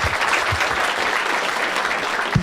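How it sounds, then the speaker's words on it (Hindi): Audience at a comedy crowd-work show clapping steadily, a dense sustained burst of applause from a room full of people. "ठीक है बढ़िया, एक बार ताली बजा दें इन दोनों के लिए।"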